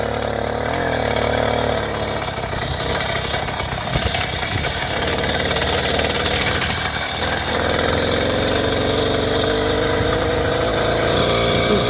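The small motor on a motorized women's bicycle runs continuously, a loud, buzzy, rattling drone that stays steady for the whole stretch, with a slight dip and recovery in pitch partway through.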